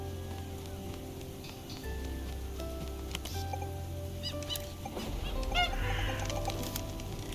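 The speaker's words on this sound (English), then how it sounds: "I don't know why the seagulls sound like crows." Seagulls in the video game TOEM give short clucking, crow-like calls scattered over soft game ambience and music, with several quick squawks clustering near the end.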